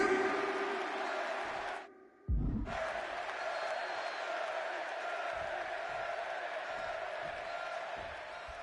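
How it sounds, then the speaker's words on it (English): Steady roar of a big arena crowd cheering in Chicago during a CM Punk versus Eddie Guerrero match in WWE 2K26, a continuous wash of noise that drops out briefly mid-clip before resuming at full level. "just listen to this crowd here in Chicago"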